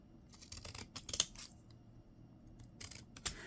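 Scissors snip through paper while cutting out postage stamps: close, crisp cuts in two quick clusters with a quiet pause between, and no voices.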